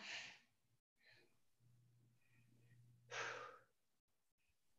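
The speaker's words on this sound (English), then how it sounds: "I feel like I'm breathing so heavy." A person doing a yoga workout breathes heavily, with two distinct breaths separated by a quiet pause and faint low hum, close to the microphone.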